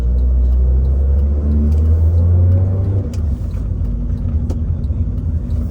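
A 1997 Acura CL rolls along the road from inside the cabin, its engine a steady loud low rumble with a slight shift in tone partway through, and no voices.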